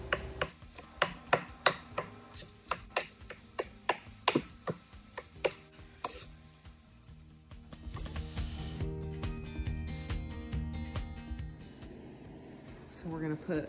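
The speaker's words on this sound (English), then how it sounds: "So we're gonna get to chopping these up" Foraged chanterelle mushrooms are chopped on a board for freeze-drying, giving a steady run of sharp knife taps for about six seconds, followed by clattering and handling noise.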